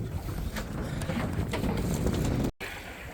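A fishing boat nears the shore after net fishing for omul in Yakutia, with a steady, close roar of engine and wind noise that drops out briefly near the end.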